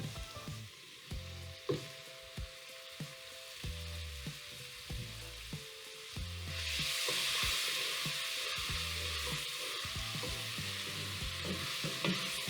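Mushrooms added to a mushroom barley soup mixture sizzle in the pot, a soft, steady frying hiss that grows fuller halfway through, with faint knocks and clatter, no voices.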